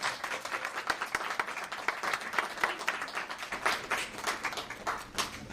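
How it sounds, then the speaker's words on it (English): Audience clapping for Gay Straight Alliance members at a Transgender Day of Remembrance event, a fairly quiet, continuous patter of many hands with sharp individual claps standing out. "if I could give these guys a round of applause"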